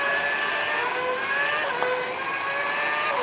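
A car engine in the mobile battle-royale game Free Fire MAX hums steadily and loudly, its pitch drifting up and down as it revs, with no talk over it.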